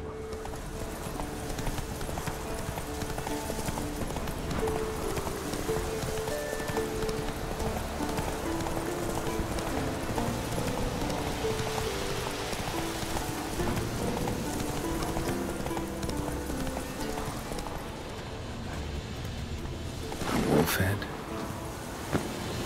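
Roach, a horse in The Witcher 3, gallops with a steady clip-clop of hooves over a bed of game ambience and music, with a rider's voice calling out briefly and a louder burst near the end.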